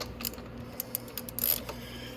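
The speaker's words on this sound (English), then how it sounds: "So we're going to want to remove these 2 bolts." Socket wrench with an extension working on bolts holding the sprockets of a Venom Grizzly & Madix, giving a few quiet, separate clicks and ratchet ticks over a low steady hum.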